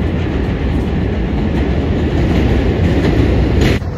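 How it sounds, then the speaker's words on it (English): A train runs loudly and close by on its rails with a continuous heavy rumble and clatter, then a brief sharp noise near the end. "We're gonna see if this train is packed."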